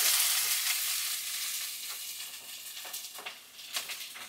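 Green chillies and onions fry in oil in a home kitchen pan, a steady close sizzle with occasional stirring scrapes and crackles, no voices.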